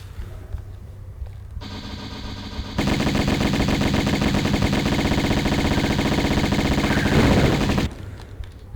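Rapid, continuous pistol fire from Lara in Tomb Raider 1 Remastered, loud and dense for several seconds before cutting off, with no one speaking.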